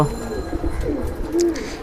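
A male racing pigeon of an old Toofan line, kept as a main breeder, gives low, soft coos at close range, with a longer rolling coo near the end and no talk.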